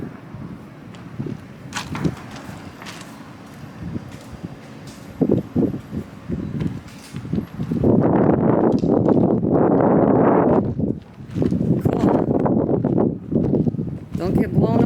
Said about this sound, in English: Don't get blown over, it's windy.